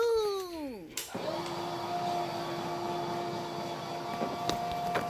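A steam mop switches on with a quick electronic beep tone, then its motor settles into a steady hum with faint high whine and soft clicks, running close and continuous.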